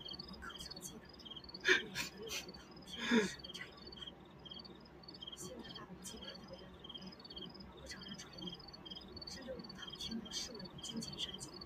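Crickets chirp faintly and continuously in the background, a thin, high pulsing trill that runs throughout, with brief louder knocks and rustles near the start and quiet room sound underneath.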